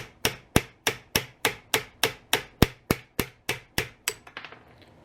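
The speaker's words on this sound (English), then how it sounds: "taking a brass punch and your hammer, drift that all the way over" Sharp metallic hammer strikes on a brass punch drifting a gun sight on a Winchester '94 rifle, in a quick, steady rhythm, about fifteen blows close up, the last few lighter and quicker.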